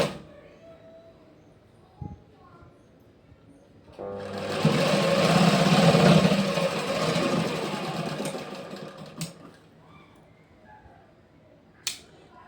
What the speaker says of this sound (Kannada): ಸಮ ಇಟ್ಕೊಂಡು ನಾವು ಇದನ್ನ ಸ್ಟಿಚ್ ಮಾಡ್ತಾ ಬರಬೇಕು.